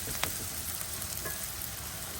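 Onions for a tomato curry sizzle in a pan, a continuous close frying hiss with a small clink near the start and no talking.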